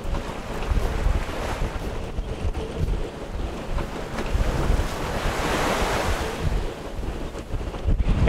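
Gusty wind buffets the microphone while waves wash and slap steadily nearby at a boat anchorage, a continuous outdoor roar with no talking.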